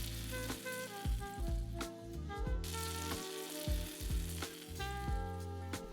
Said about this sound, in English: I'm frying up 5 slices of bacon.